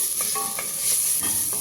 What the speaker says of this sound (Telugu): ఆయిల్ వేడిచ్చింది, ఎల్లుల్లిపాయ కడేసేసుకుందాం.